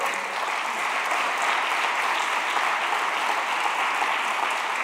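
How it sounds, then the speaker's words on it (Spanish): Church congregation applauding: dense, sustained clapping from a large crowd, steady and fairly loud throughout, with no talk over it. "Démosle un aplauso al Señor."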